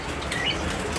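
A pet bird flaps its wings in a short, steady flurry of soft fluttering, close and fairly loud, with no talking.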